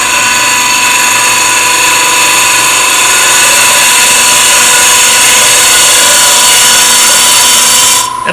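End grain hollowing tool scraping wood on a lathe, a loud continuous bright scraping hiss over the spinning machine's steady hum, unbroken for about eight seconds before cutting off.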